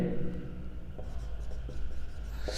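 Chalk or marker scratching across a board during a physics lecture on electric flux, a steady low scraping texture with faint taps, no voice heard.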